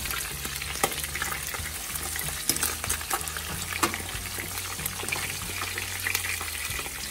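Pork ribs browning in their own rendered fat on a stovetop pan make a continuous close sizzle with sharp pops and some utensil clatter and stirring, with no one speaking.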